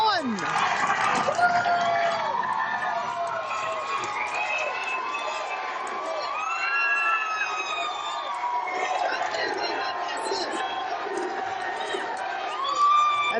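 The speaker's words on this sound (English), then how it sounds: "And the crowd chanting, Evie, Evie, Evie" A high school varsity hockey crowd at a Woodbridge Township versus St. Joe's game cheers and shouts in a noisy rink, with a rhythmic chant and children's voices rising over a constant roar.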